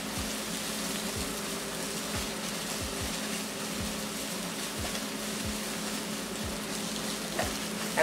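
Eggs beaten with butter scrambling in a pan for fried rice, a continuous crackling sizzle with a steady hiss and faint scraping stirs throughout, close up and even in level, with no voices.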